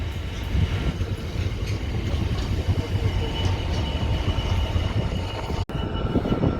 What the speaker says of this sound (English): Now leaving Peterborough freight line